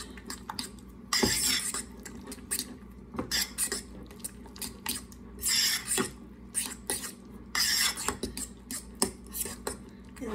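Seasoned jalapeño popper filling with black pepper is stirred in a bowl, giving repeated scraping, squeaking and clinking strokes in uneven bursts, close and fairly quiet, with no talking.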